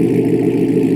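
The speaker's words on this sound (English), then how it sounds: "Let's get a cold start on it and see what this thing sounds like." A C8 Corvette with headers, a cold air intake, an X-pipe and an axle-back exhaust during a cold start, giving a loud, steady, deep exhaust drone close by.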